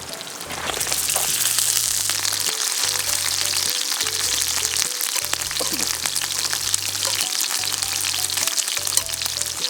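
Hanwoo beef steak cooked in beef tallow sizzles loudly on a grill outdoors by a valley stream, a constant crackling hiss with spattering pops, while a pulsing low hum repeats underneath.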